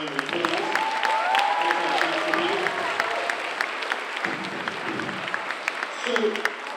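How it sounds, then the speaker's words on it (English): A school audience claps steadily throughout an anti-bullying presentation, with a voice speaking over the applause and a few cheers mixed in. "Let's give these guys another round of applause."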